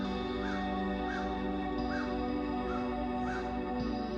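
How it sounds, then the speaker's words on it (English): A crow caws five times at a steady, evenly spaced rhythm on a frosty, chilly fall morning, the calls fairly faint and distant over a constant low hum from the surroundings. "That sounds like a crow,"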